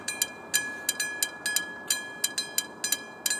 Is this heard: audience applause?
no